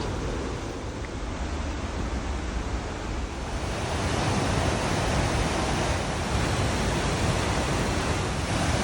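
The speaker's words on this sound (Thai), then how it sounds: "เสียงน้ำอยู่ข้างล่างค่ะ" Tad Tu waterfall in southern Laos, heard from a trail above as a constant broad rushing roar of falling water, steady and fairly loud with no voices.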